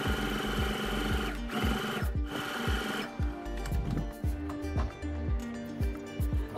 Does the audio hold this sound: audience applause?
no